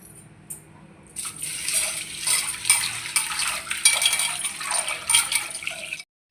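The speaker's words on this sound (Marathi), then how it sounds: "डाळ ही 2 ते 3 वेळा पाण्यात धुवून घेऊया" Dal lentils swished and rinsed by hand in a bowl of water, a close, steady wet clatter and swirl of grains lasting about five seconds, with no talking.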